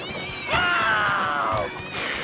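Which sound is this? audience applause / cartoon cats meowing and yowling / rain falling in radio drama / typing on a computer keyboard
cartoon cats meowing and yowling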